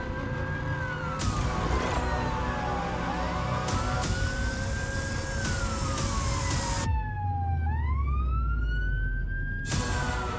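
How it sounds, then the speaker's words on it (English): A police siren wails loudly and steadily, its pitch sweeping slowly up and down over passing road traffic, with a brief higher yelp near the end. "it's got blue lights and sirens behind him"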